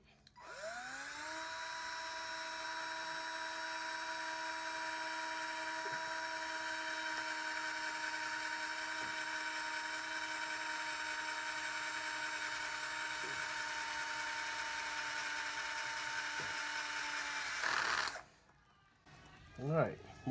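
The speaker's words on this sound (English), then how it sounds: "So this time I'm not going to make that mistake, and I'm going to use a more substantial drill bit." A drill with a larger bit bores into the plate of a 1950s GE appliance, a steady loud whine that spins up, holds for about seventeen seconds, then stops abruptly, leaving faint clatter.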